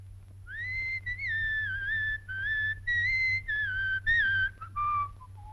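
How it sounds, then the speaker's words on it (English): A whistle sound effect from a 1942 radio comedy show plays as a bright, sustained human-style whistle in a wavering melodic line, broken into several phrases that step up and down and trail off lower at the end, with no talking. "That whistle. It gets my teeth on edge."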